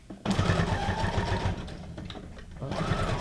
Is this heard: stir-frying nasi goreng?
no